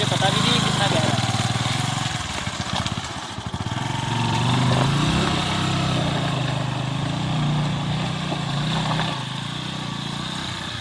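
A motorcycle engine drones steadily at close range as the bike pushes through deep muddy water on a forest track, the motor rising and dipping slightly in pitch throughout.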